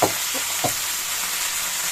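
Loud, constant sizzle of radish greens frying in a pan, with a couple of quick stirring scrapes near the start.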